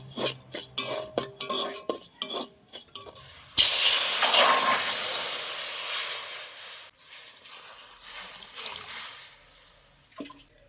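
Water poured onto red-roasted semolina in a hot pan sets off a loud hissing sizzle after several clinks of a utensil, then bubbles and fades under continued stirring.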